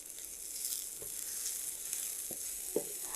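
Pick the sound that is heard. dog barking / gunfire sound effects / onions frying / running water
onions frying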